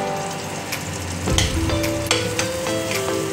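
Loud, continuous sizzling from a hot pan, with scraping and clinking of a spatula as vegetables with green chillies are stirred.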